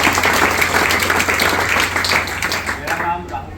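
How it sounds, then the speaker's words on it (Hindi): A meeting audience at a DXN gathering bursts into loud, sustained applause, a dense crackle of many hands clapping close by that fades slightly toward the end. "एक जोरदार ताली आप सभी लोग"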